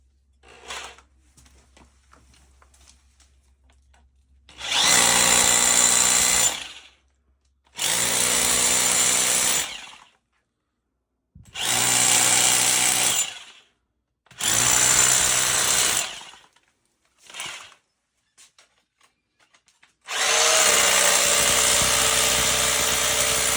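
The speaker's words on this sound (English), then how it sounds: "we're going to drill the channels through this crack and insert the injection packers" A power drill bores into a cracked concrete basement wall in five loud bursts of a few seconds each, separated by short pauses, close up and without talking.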